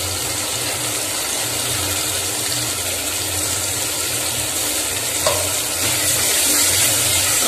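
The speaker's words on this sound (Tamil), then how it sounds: "நல்லா தக்காளி இஞ்சி பேஸ்ட்டு அனைத்தும் நல்லா வேவர வச்சும் கிண்டி விட்டுக்கிட்டு இருங்க" Tomatoes and ginger paste fry in a pan while being stirred, giving a steady close sizzle with faint scraping throughout, no talking.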